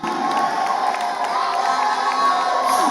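A crowd at a vocal competition final cheers loudly and steadily, with excited shouts and some clapping blending into a continuous roar.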